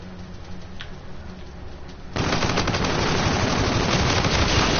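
Automatic gunfire from the shooter game Call of Duty: Infinite Warfare starts as quieter distant shots, then a loud rapid burst of close fire rattles on continuously for several seconds.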